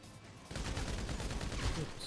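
Rapid continuous minigun fire bursts in after a quiet start, a fast rattling stream of shots from a video game, loud and steady.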